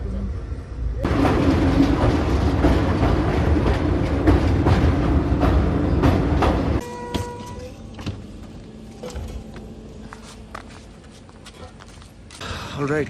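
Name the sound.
passenger train running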